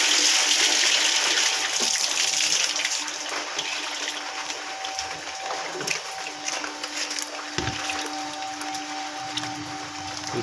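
Water splashes and pours into a basin holding freshly caught koi, shingi and puti fish from a wetland, a steady rushing stream that is loudest at first and then settles into softer trickling and sloshing.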